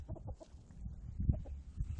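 Chickens in a flock that includes hens and several roosters cluck and murmur softly at close range, a low continuous chatter of short notes.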